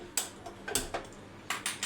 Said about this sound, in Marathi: गॅस ऑन करायचं